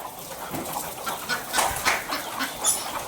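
Free-range village chickens and about 65 chicks, with ducks nearby, fill a poultry shed near Dombivli with a steady, low-level chorus of peeping and clucking, many small calls overlapping at moderate distance.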